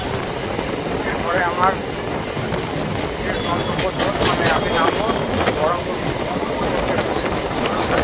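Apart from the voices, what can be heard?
train leaving Beldanga station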